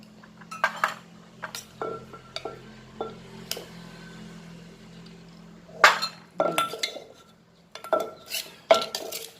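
A pestle working a fresh shrimp salad with tamarind and lime in a mortar, giving irregular knocks and clinks close by, some louder hard thuds, with a faint steady hum behind.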